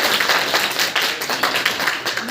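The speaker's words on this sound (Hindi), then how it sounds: "इनके लिए तालियां बजाई जाए।" Classroom of students clapping for a classmate at a school language fair, a brisk, fairly loud patter of many hands that continues evenly throughout with no talk over it.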